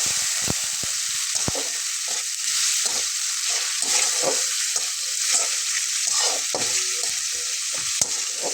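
Garlic and whole cumin spice paste fries in a pan with a steady bright sizzle, broken by repeated close scraping and stirring knocks from a spatula throughout.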